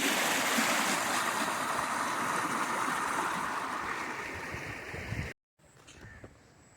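Floodwater after heavy rain rushes through a village street in a broad, continuous roar that fades slightly before an abrupt cut, then quieter ambient flow resumes.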